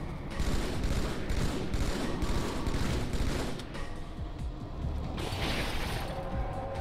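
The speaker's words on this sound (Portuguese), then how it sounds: "Cara, vários tiros?" Dense, rapid gunfire in the video game Halo 2 rattles almost continuously, with mechanical clanks and bursts layered on top, loud throughout with no talking.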